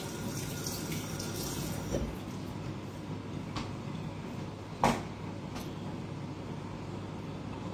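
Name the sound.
washing dishes under running tap water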